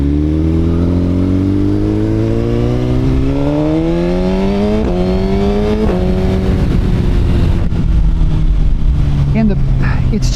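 A 2018 Suzuki GSX-R1000 sportbike fitted with a G2 throttle tamer accelerates on the throttle, its engine note climbing steadily through gears with brief shift breaks, loud and close under wind rush, a voice talking over it.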